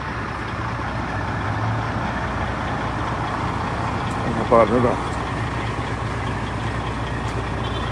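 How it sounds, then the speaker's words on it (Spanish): Trucks and other vehicles pass steadily on a road in Caborca during a traffic stop, with continuous engine rumble and idling, a brief louder burst midway, and nearby voices talking over it. "Ahí se están pasando todos los vehículos."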